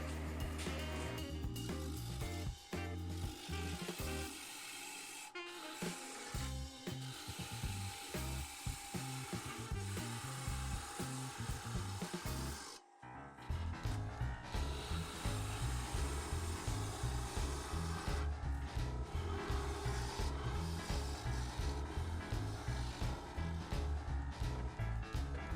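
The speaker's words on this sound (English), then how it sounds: "Now I'm going to turn the inside." Close, continuous whirring and scraping of a wood lathe as a tool cuts the inside of a natural edge maple bowl, with a grinding, rubbing texture that stays loud apart from one brief dip.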